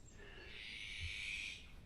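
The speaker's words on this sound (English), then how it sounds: "A Eurasian jay, I think." A Eurasian jay calls in a forest, giving a single drawn-out, harsh, hoarse screech that lasts over a second, faint and distant against quiet woodland, with no voices.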